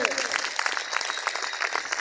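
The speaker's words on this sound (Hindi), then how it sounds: "जबरदस्त ताली होना चाहिए" Applause from a crowd at a company celebration event in Deoria, Uttar Pradesh, a dense sustained clapping that fills the room.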